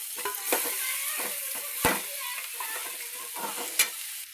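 Tomatoes fry in oil in a pan, a soft steady sizzle broken by repeated scraping stirs and a couple of sharp utensil knocks against the pan.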